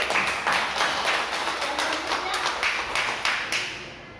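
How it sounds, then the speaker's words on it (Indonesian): A small group claps together during a teacher training session, a fairly steady patter of hands that fades out toward the end, with some voices faintly underneath. "Oke, tepuk tangan untuk kita."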